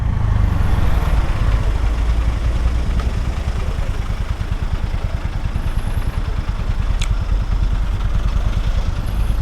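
A 2021 Honda Super Cub is ridden with a steady, loud, close engine drone and a constant low putter, and wind noise persists throughout with no speech.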